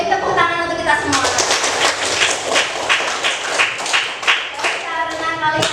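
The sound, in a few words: class clapping hands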